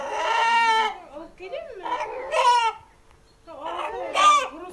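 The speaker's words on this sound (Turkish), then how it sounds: "Kesileceğini adeta hisseden horoz anne diye bağırmaya başladı." A rooster about to be slaughtered crows in loud, drawn-out calls that resemble a human cry of "mother", three separate bursts close to the listener with short pauses between them.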